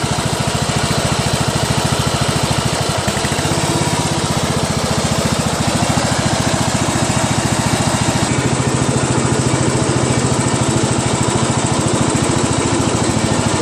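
Craftsman LT1000 lawn tractor engine running steadily, a loud, close, even small-engine putter that holds for the whole stretch with a slight shift partway through, no talking.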